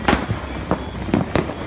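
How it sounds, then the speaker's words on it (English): Diwali firecrackers in Mumbai burst in sharp separate bangs, four cracks in quick irregular succession, fairly close and loud against a noisy background. "you can tell lots of firecrackers"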